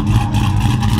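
A lifted Chevrolet Silverado 1500 pickup on 37-inch tires and 26x14 wheels rumbles loudly up close, its engine giving a deep, throaty, steady growl for about a second.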